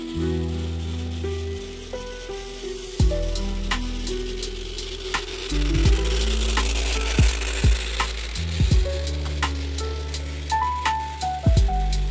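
A Jouef HO scale model train locomotive runs at half power, making a loud buzzing motor whine interrupted by sharp clicks and clacks from the track joints. No voices are heard.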